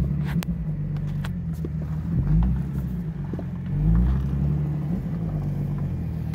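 A black BMW car pulls up with a low, steady engine rumble close by, swelling briefly twice as it moves, with faint ticks and rustles over the top and no talking.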